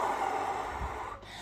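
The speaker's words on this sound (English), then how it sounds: "by actually taking some deep breaths" One slow, deep breath is drawn in and let out close to the microphone, a soft airy rush that fades near the end, with no speech.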